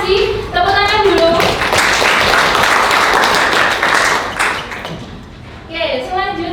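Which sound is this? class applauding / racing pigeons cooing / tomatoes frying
class applauding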